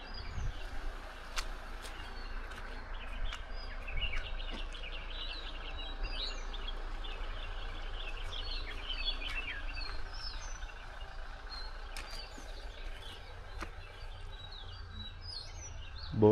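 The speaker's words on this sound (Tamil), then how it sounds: "பேர்ட்ஸும் நிறையா இருக்குது." Many birds chirp and call in a forest on a route near Valparai, with scattered high tweets over a quiet, low ambient hum and one brief louder thump near the end.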